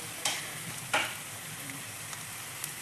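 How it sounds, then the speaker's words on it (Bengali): Gram flour fries with ginger, garlic and chilli in a pan over a low flame, a soft, steady sizzle broken by a few brief scraping stirs, close by and with no voices. "বেসনটা খুব সুন্দর করে আবারও ভেজে নেব।"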